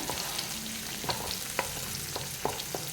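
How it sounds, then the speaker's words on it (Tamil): Dried red chili and vegetables sauté quietly in a pan with a steady soft sizzle, while a spoon stirs and scrapes in sharp, irregular clicks. "சேர்த்து அதையும் நல்லா கிளறி விட்டுக்குங்க இது எல்லாம் சேர்ந்து லைட்டாக வதங்கட்டும்"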